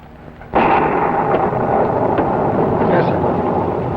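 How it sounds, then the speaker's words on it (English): Deep rumbling thunder from a storm rolls in suddenly and loudly, then sustains as a broad, continuous roar with no clear break. "I'm worried about that storm."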